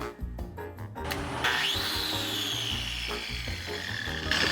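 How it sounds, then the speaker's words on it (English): A diamond brush on a power tool strips paint from cedar walls in a bike shop, with a loud grinding whir that rises and then keeps up a rough, scraping drone, punctuated by a few knocks. "The diamond brush did an amazing job at stripping the paint."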